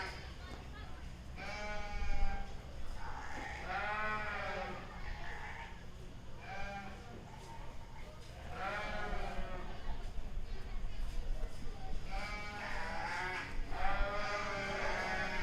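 Sheep bleating at a 4-H sheep and goat show, several wavering bleats repeating through the clip at moderate distance, heard under a voice announcing over a public address system.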